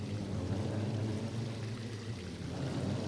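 Steady flowing water in the Minecraft Betweenlands mod, a continuous rushing, pouring wash that stays even and fairly loud throughout with no talk.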